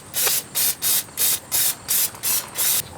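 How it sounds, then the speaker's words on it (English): Chlorinated brake cleaner sprayed onto the parking brake parts of a 2008 Hyundai Elantra's rear brakes, eight short even hissing bursts in a steady rhythm, close and loud with brief gaps between them. "cleaner to clean all of the components of the parking brake system"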